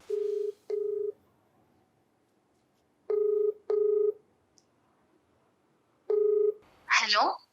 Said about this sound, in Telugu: ఒకసారి కాల్ చేసి మాట్లాడదామండి